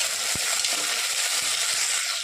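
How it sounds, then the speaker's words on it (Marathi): Chopped tomatoes and potatoes sizzle in a pan of browned onions for masala khichdi, a close, steady frying hiss broken by a few soft stirring knocks. "परतवून घेऊया."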